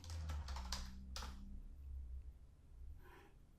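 Quick bursts of keystrokes clatter on a computer keyboard, a fast run of clicks early on, then a pause and a brief final tap, close and quiet.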